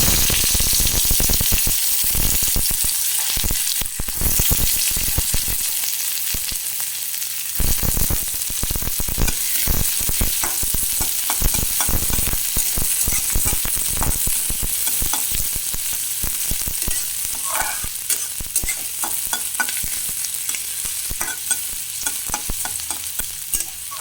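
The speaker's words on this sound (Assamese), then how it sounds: "পিঁয়াজখিনি ৰঙাকৈ ভাজি ল'ম" Onions sizzling and frying in hot oil in a wok, with a constant crackling hiss and occasional scraping of a spatula stirring.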